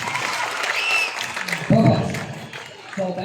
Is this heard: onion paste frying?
no